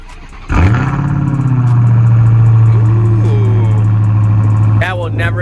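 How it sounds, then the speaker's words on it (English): A Dodge Charger engine cold-starts with a sharp crank and catch, then settles into a loud, steady, rumbling high idle recorded up close, with brief voices and noises near the end. "let me get y'all a quick little cold start"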